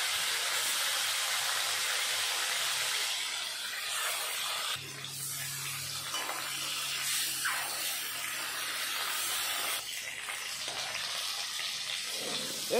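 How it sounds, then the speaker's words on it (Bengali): Fish coated in turmeric and salt drops into hot oil in a kadai, giving a steady broadband sizzle and spitting hiss that runs throughout, with a few louder crackles, close and fairly loud, and no one speaking. "ভালো মতন তেল গরম হয়ে গেল, তেলের উপরে দিয়ে দেবো এখন মাছ।"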